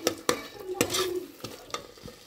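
Masala mixture is stirred and cooked in a pan, with about half a dozen crisp scraping strokes from a spoon over a gentle sizzle, close by and free of speech.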